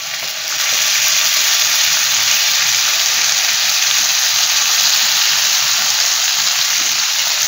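Tomato puree frying in a pan with garlic and onion gives a loud, dense, steady sizzle that starts abruptly as it hits the pan and stays close and constant, without talk.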